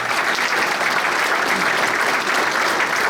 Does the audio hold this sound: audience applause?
yes